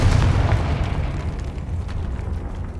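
A deep, rumbling explosion from the Confringo spell in the Hogwarts Legacy video game, loud and booming at the start, then fading into a sustained low roar with no speech.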